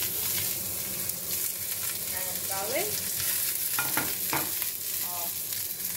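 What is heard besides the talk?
spring onion and garlic sizzling in oil while stir frying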